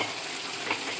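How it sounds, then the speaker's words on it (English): Half a bar of butter melting with garlic in a frying pan, giving a steady close hiss and crackle of sizzling fat, with no talking. "a bar of butter in here and go ahead and start getting that melted along with a teaspoon or so of garlic."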